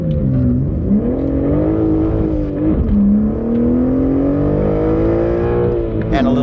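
A BMW M3 engine heard from inside the cabin on a track, a loud, smooth drone climbing steadily in pitch under acceleration with a brief dip at a shift, close and continuous.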